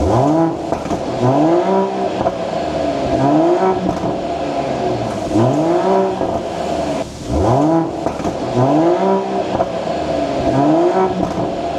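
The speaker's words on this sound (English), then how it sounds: "an inline 6-cylinder turbocharged engine making 429 horsepower" A Mercedes-AMG GLE 53's 429-horsepower turbocharged inline six-cylinder engine revs repeatedly through quad exhaust, rising and falling in a steady series of loud throttle blips close by, with no talking.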